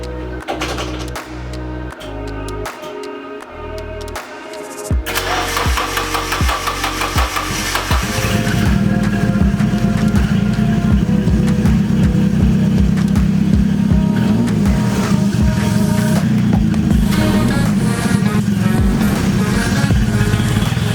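A Nissan 240SX engine fitted with STi injectors cranks and starts, moving from a few seconds of mechanical clicking into a steady, loud idle that keeps running to the end.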